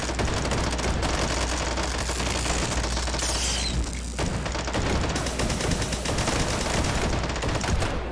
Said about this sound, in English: Taking fire here.